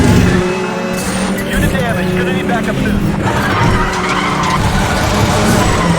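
Racing car in Need for Speed: The Run on a mountain pass, engine roaring near and loud while accelerating, with tire skids and changing pitch throughout, and someone talking over it.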